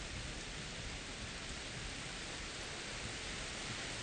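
Steady, dense rain falls in the video game Enshrouded, an even hiss of heavy rainfall that holds unchanged from start to finish with no talking over it.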